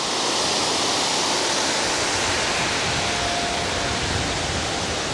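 Steady, loud broadband rush of a waterfall at Cat Cat Village in Sapa, Vietnam, a dense continuous roar of falling water with no pauses and no voices over it.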